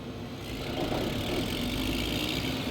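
Combine harvester engine in Farming Simulator 15, a steady mid-to-low droning hum with a faint rattle, continuous and fairly loud throughout with no talking.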